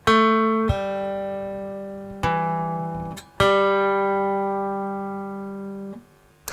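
Plucked twangy cigar box guitar notes ring out one after another, each sustaining and fading before the next attack, with a quick pull-off near the end.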